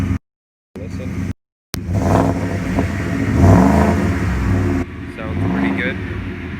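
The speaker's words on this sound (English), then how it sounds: "Here it is, the MBRP exhaust installed." A 2015-2020 Ford F-150 truck engine revs up through an MBRP 3-inch single side-exit exhaust, rumbling and rising after a couple of brief dropouts, then settling back toward idle.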